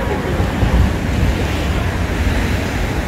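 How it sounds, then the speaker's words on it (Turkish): Sea waves wash steadily against the shore, a continuous dense rushing roar mixed with wind noise, loud and even throughout with no voices. "Deniz çok güzel."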